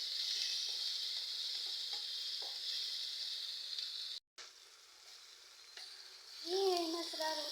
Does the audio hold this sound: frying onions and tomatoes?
yes